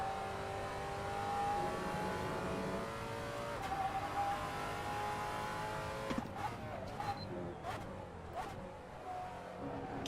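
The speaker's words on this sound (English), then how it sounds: "Keep hitting the rev limiter or the downshift protection, which is not good." A race car in the Assetto Corsa sim racing game, the engine droning steadily at high revs, then a run of sharp stuttering cuts as it bounces off the rev limiter, fairly quiet and without speech.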